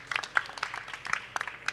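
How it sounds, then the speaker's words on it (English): Brief, sparse clapping from a small group at a Devconnect Argentina pavilion session, a short scatter of hand claps with murmuring voices underneath. "Little applause for the Andy's team for going first"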